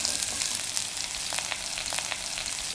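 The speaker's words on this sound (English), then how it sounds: "That's when you add your garlic chives and your onions in." Garlic chives and onions hit smoking oil in a wok for char kway teow, setting off a loud, bright, continuous frying sizzle with bursts of crackling, up close and with no talk.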